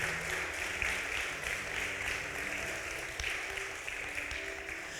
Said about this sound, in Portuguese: Pode aplaudir a Jesus.